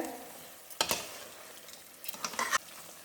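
Mutton biryani ingredients sauté in hot oil with a soft, constant sizzle, broken by a quick scraping stir and then a flurry of louder stirring strokes close by.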